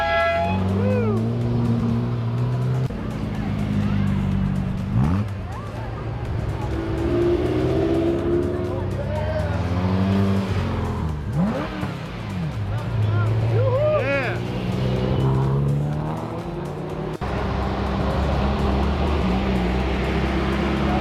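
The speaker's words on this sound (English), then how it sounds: "Lamborghini" A Lamborghini supercar drives past at a cars and coffee meet, the loud engine note rising and falling as it revs and passes close by, with other car engines and people talking around it.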